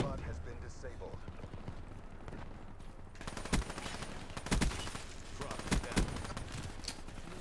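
Scattered game gunfire from a multiplayer match in Call of Duty: Black Ops 3, with sharp single shots and short bursts spaced a second or so apart over a steady busy background, with a voice talking.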